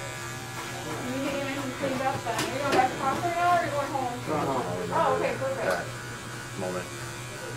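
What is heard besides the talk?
electric clippers buzzing long hair short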